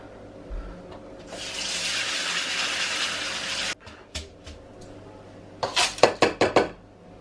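Uncle Ben's rice is rinsed under running water in a sink, a steady close rush of tap water for several seconds, then stops and gives way to a run of sharp clinks and knocks of grains and a pot being handled.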